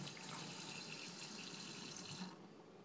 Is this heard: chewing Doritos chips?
no